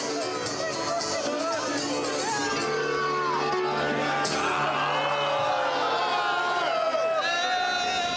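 A dense crowd of drunk Irish football supporters arrives at Saint-Denis, producing a continuous roar of chatter, shouts and whoops with scattered cheering. A nearby voice talks over the din.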